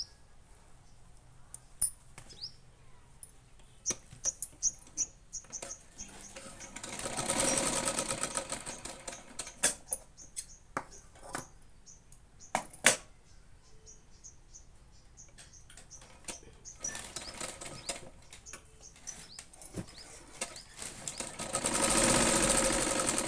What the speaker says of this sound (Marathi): अशा पद्धतीने हुकपट्टी जोडून घ्यायची.